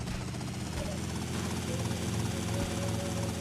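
Helicopter rotor drone from GTA Vice City, a steady dense whirring that stays loud and even throughout, with a low engine throb underneath.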